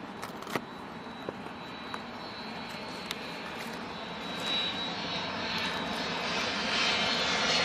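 Boeing 767 jet engines of a United Airlines airliner at Heathrow, a steady broadband roar that slowly builds over several seconds, heard from a distance with a few faint clicks and no talking.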